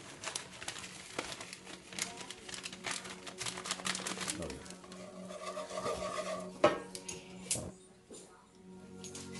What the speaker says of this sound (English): just keep that whisk moving, so you just want to keep working that cheese in it